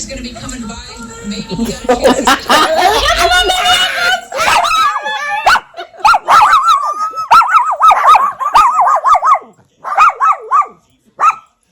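Dog vocalizations fill the clip: loud barks and a rising howl at first, then a run of whimpering yips and whines that fade in and out, mixed with a person's speech.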